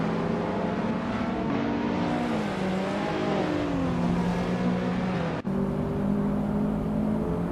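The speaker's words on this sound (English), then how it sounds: "Amy is driving a 2010 Audi TT Rs, starting in 10th place." A 2010 Audi TT RS in a racing video game, its engine droning steadily and loudly with rising and falling pitch as it shifts gears, with no talking.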